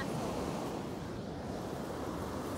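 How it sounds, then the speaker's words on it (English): Ocean waves wash onto a beach at night as a constant, faint, broad rushing surf mixed with wind noise. "now we're walking along the beach at night"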